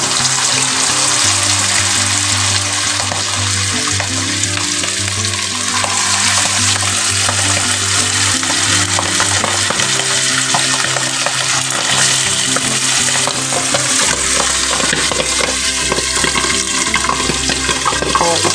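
Marinated milkfish frying in oil, a loud continuous sizzle with crackling splatters close by and a low steady hum underneath, no talk.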